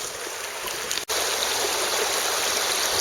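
An Alabama creek flows steadily nearby, giving a continuous bright rushing and trickling wash with a single soft knock partway through and no voices.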